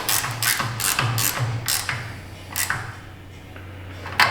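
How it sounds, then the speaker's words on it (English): An 11 mm wrench ratchets on a bolt of a utility trailer during rewiring, giving a quick run of about six rhythmic clicks, then a couple of slower ones, close and clear. "Grab us a wrench here. Classic 11 mil, probably 7/16"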